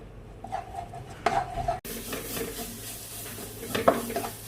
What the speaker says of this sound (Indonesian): Ini saya tumis bawang putih ya, pakai minyaknya sedikit aja untuk kuah baksonya.